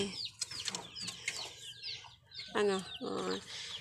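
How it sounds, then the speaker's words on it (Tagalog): Backyard chickens cluck and squawk in bursts, fairly close, with a couple of louder harsh calls near the end over a busy farmyard background with chicks. "ito naman tong isa yung mga manok niya, saka ito ayun mga sisiw"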